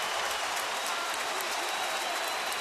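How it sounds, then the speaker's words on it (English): Baseball stadium crowd on their feet during a perfect game bid, Texas at Houston, cheering and applauding in a steady dense roar with no letup. "this crowd on their feet sound like they're pretty wholeheartedly open to seeing a perfect game tonight"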